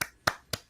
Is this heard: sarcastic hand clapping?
yes